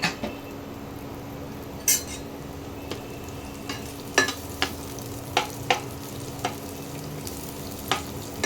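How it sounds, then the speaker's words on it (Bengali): Chopped onions fry in hot oil, a soft continuous sizzle broken by repeated sharp clinks and scrapes of a spatula against the pan, close and fairly quiet with no talking. "তেলটা গরম হয়ে এসছে, এবারে পেঁয়াজ কুচিটা ছেড়ে দিলাম।"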